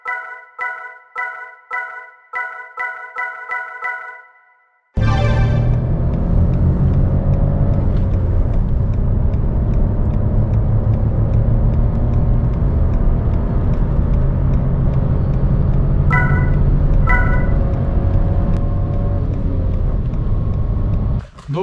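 Peugeot 308 PureTech 110 with six-speed gearbox, 2018 Allure trim, heard from inside on a test drive: a steady close engine and road rumble runs unbroken after a few seconds of chiming tones, with a couple of brief clicks midway.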